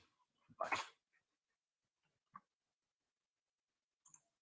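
A dog gives a short whimpering yelp followed by a couple of faint, brief yips, sparse sounds spread across quiet gaps, heard from a distance indoors.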